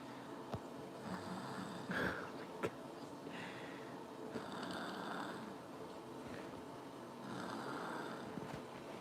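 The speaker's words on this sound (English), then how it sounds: "He's sick and he's snoring loud." A sick man snoring, with rough, rhythmic breaths recurring every few seconds, fairly faint and somewhat distant in a quiet room.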